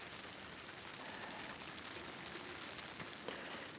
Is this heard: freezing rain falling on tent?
yes